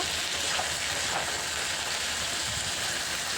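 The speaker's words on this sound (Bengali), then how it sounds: "এভাবে নাড়াচাড়া করে আলুগুলো লাল লাল করে ভেজে নেব" Potatoes fry in a pan with a steady, dense sizzle while being stirred, a continuous hissing crackle with no pauses and no talking.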